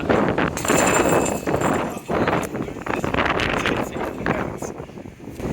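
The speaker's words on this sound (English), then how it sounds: "This wind could play havoc, not only on the drive but on the putting green." Gusty wind buffets the microphone on an outdoor disc golf course during a practice round, loud rumbling surges that drop briefly and return, continuous and close.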